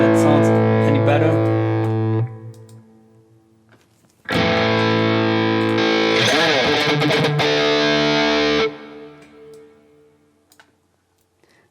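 Distorted electric guitar run through a Mesa Mark 2C Plus amp model on a Fractal FM9, loud chords ringing for about two seconds, a pause, then a second longer burst of harsh high-gain strumming that cuts off and fades.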